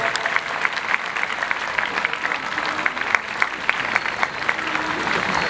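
An audience at a prize distribution ceremony claps steadily for a student award winner, dense, even applause close and continuous throughout.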